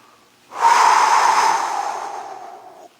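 A single long, loud exhale through the mouth during a side bend stretch in a movement session, starting abruptly and fading steadily over a couple of seconds.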